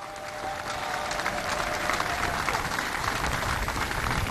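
Audience applause breaks out at a comedy show, building quickly into dense, continuous clapping from a large crowd mixed with faint crowd murmur.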